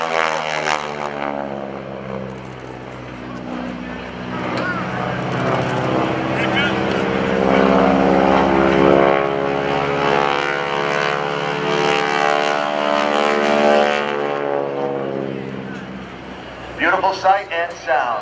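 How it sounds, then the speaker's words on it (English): A heavy vintage propeller airplane flies airshow aerobatics at NAS Oceana, its engine droning loudly and rising and falling in pitch as it sweeps past, with a voice talking over it near the end. "This is a heavy airplane to power around. So hear the energy build"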